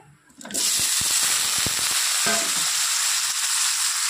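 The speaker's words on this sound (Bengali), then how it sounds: "আলুগুলো ভেজে নিতে হবে।" Potatoes hit hot oil and begin frying: a quiet start gives way to a sudden loud sizzle with a few clacks of stirring, then a steady hiss.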